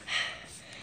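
A person gasps and breathes heavily after hard work, one sharp intake followed by ragged breaths, close and fairly quiet.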